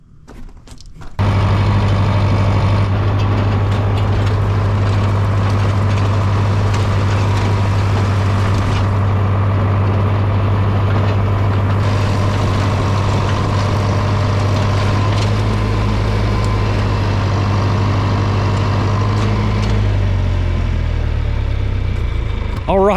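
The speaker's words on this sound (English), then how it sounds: "Let's hop on the tractor and go plant some corn" A tractor engine drones loud and steady while planting sweet corn, with a constant low rumble and a deep hum holding through the whole stretch, close and continuous.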